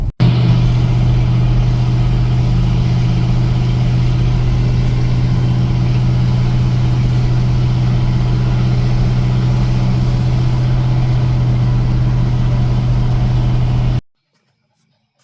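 A 1978 Chevrolet C10 pickup truck driving on a road, its engine a steady low drone with road rumble, loud and continuous for about fourteen seconds before cutting off abruptly.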